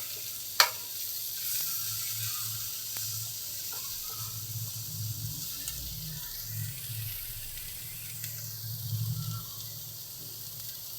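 Aachi masala powder and Kashmiri chilli powder sauté in a pan for a green peas prawn curry, giving a steady soft sizzle with occasional clinks and scrapes of stirring.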